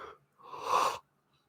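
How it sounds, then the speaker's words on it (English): A person yawning once, a short breathy intake followed by a longer, louder open-mouthed exhale that stops abruptly, alone and close. "My yawning, it's contagious."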